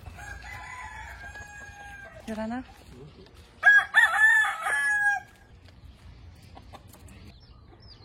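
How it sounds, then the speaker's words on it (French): Rooster crowing at night in Tahiti, one loud nearby crow rising and falling over about a second and a half, with a fainter call just before it and quiet night air around. "Les coqs ici, ils commencent à crier à partir de 23 h."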